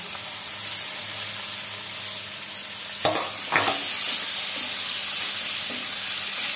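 Peas and potatoes fry in a pan with a constant close hiss and sizzle, broken by a couple of brief stirring clanks partway through.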